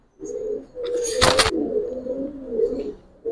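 An old-breed Giribaz pigeon coos in a low, close, repeated rolling call, broken briefly by a burst of wing flutter or rustling.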